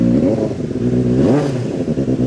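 A 2016 Benelli 600 motorcycle with an aftermarket exhaust revs nearby, its engine note climbing and falling in a short, loud throttle blip over a steady idle.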